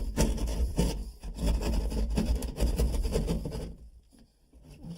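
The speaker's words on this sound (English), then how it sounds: "the reason I like using a keyhole saw is that I'm working around pipes or wires" A hand keyhole saw cuts through a wall around pipes, rasping back and forth in uneven strokes of scraping wood, close and fairly loud, before stopping near the end.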